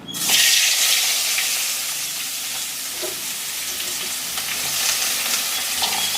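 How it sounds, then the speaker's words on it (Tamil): Loud, continuous sizzle of onions frying in hot ghee, a dense crackling hiss that holds steady from start to finish, no voices. "அதே நெய்யிலே பொரிக்கிறீங்க? இதை நெய்யிலே பொரிச்சிடணும்."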